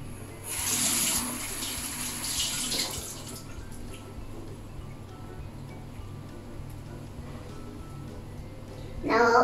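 A bathroom tap runs into a sink during face washing, a soft steady trickle with louder splashy bursts near the start and again at the very end.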